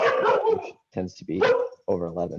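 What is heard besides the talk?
dog barking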